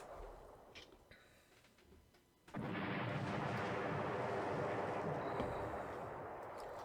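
A torpedo strikes in a World War II strategy video game, a sudden deep booming blast that swells into a long, loud rumbling roar after a quieter stretch of faint clicks and background.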